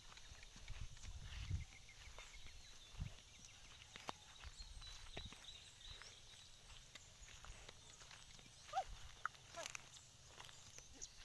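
Horse hooves clip-clopping outdoors, scattered faint hoof knocks at an uneven pace with a few louder steps, under low background noise and occasional voices.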